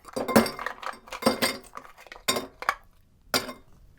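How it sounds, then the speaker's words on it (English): Ice cubes clink and rattle into a glass mixing beaker for a Manhattan cocktail. The sharp clatters come in several separate bursts, close and distinct. "start by taking my mixing beaker, load it up with ice"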